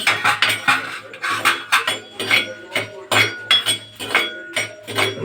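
Dried red chillies tipped into a clay pan clatter and rattle in a series of sharp, irregular bursts, close and fairly loud, while being roasted for idli podi.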